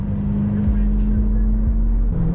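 A BMW E92 M3 engine hums steadily from inside the cabin while driving, a low continuous drone with slight shifts in pitch.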